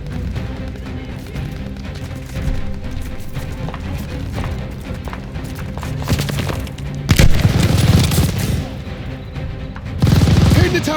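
Tower machine gun fire in Call of Duty Vanguard's Operation Tonga mission, a dense, continuous battle din of gunfire with heavier booming bursts swelling louder toward the end.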